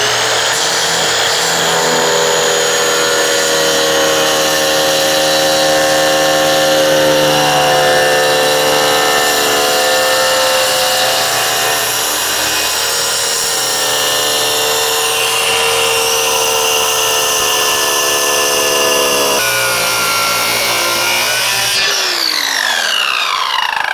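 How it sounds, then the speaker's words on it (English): A basic circular saw with its blade mounted backwards plunge-cuts into a barrel, a loud sustained whine with shifting harmonic pitch that dips and changes near the end as the cut progresses. "I'm just using a basic circular saw here, and the blade is turned around backwards so that I don't, you know, create any problems. I'm actually going to start with a plunge cut."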